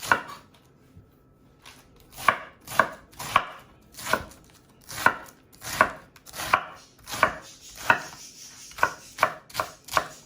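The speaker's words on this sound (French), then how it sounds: "on coupe notre salade comme ça." Knife chopping iceberg lettuce for a salad on a cutting board, a steady series of crisp, close chops with brief pauses between them.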